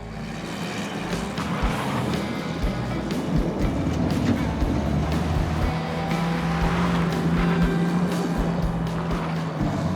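A Model T ranch truck fitted with a 2.3 liter Pinto engine drives at full throttle, a dense, rough engine roar with rattling and wind noise, loud and continuous for the whole stretch.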